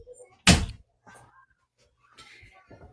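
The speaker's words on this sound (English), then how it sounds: "One second, I'm going to close this door." A door closes in a single sharp thud in a quiet indoor room, followed by brief soft shuffling sounds and faint movement.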